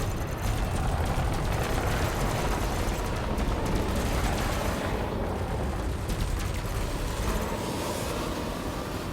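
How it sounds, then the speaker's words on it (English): Ship cannons firing in the space combat game Elite Dangerous, a dense continuous roar of rapid booming shots and engine rumble, loud and unbroken throughout. "We're going a little too hard on my cannons right now."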